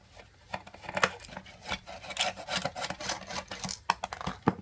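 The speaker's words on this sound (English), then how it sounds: "the diode is mounted on this, so I have to unscrew those screws as well" Scraping, rasping metal-on-metal turns from a screwdriver unscrewing screws on a 5V 10A power supply, in irregular close bursts with no talk.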